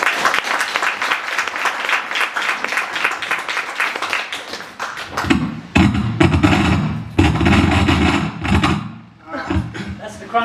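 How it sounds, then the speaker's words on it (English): An audience gives a dense round of applause for John Killick for about five seconds, then the clapping breaks off into scattered thumps and handling noises. "I will ask you to give a round of applause for"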